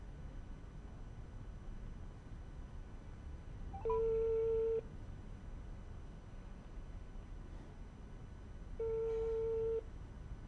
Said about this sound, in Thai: อาตมาโทรไปก็แล้วกัน